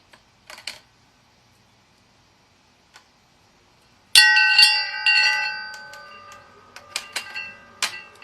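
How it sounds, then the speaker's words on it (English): Acutonics chimes and tuning forks tuned to the planets sound a few soft taps, then one bright metallic strike rings out with layered sustained tones, followed by several lighter clicks and chime hits as the ringing fades. "this system uses acutonics, chimes, and tuning forks, which are tuned to the different planets"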